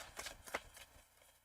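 Tarot cards riffled and shuffled by hand, a quick soft flurry of papery flicks and slaps lasting about a second, close and alone.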